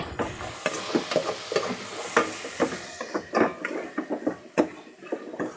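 Tomatoes being sautéed in a pan while cooking paksiw sa gata with tulingan fish, a soft sizzle under repeated scraping and stirring strokes of a utensil, close and steady with irregular rhythm.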